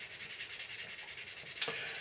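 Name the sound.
wet sanding a surface with fine grit abrasive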